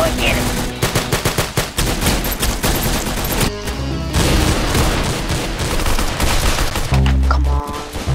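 Loud, dense gunfire in a Roblox shooter game, sustained rapid shots with booming bursts filling the whole stretch, close and continuous with brief shifts in intensity.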